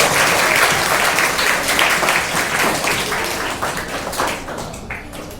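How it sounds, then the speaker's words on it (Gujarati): Loud applause breaks out from a classroom audience for a student contestant on a school quiz show, dense steady clapping that fades slightly toward the end. "એકવાર વૃત્તિ માટે જોરદાર તાળી થઈ જાય."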